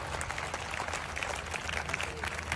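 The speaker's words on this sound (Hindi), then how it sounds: "सब मिलकर तालियां बजाएं भाई" A gathered crowd at a public protest event in Karachi applauds continuously, with clapping blended into a noisy, reverberant background of voices and chatter.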